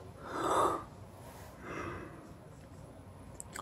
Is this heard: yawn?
yes